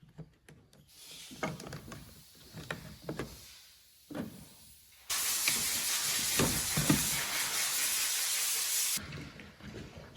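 Compressed air hisses steadily for several seconds while cleaning out a Stihl chainsaw on a repair bench, preceded by scattered clicks and clatter of handling, with a shorter burst near the start.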